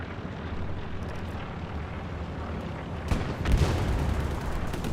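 Bombing-run explosions in Hell Let Loose on Utah Beach: a steady rumbling battlefield bed broken by a sudden sharp blast, then a heavier rolling detonation a moment later, moderately distant.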